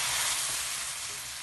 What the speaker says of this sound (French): Je vais laisser rissoler 10 minutes